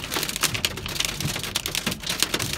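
Hail falling in Arizona, good-sized pieces striking hard surfaces in rapid irregular clatters and taps, close and fairly loud with no talking.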